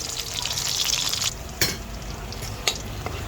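Garlic frying in hot canola oil for pork adobo, a bright steady sizzle with stirring clinks and scrapes from a utensil against the pan.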